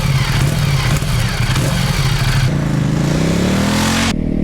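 A 2016 motorcycle with its stock exhaust revs loudly and continuously, the engine note holding steady and then climbing in pitch as it accelerates, close and dominant throughout.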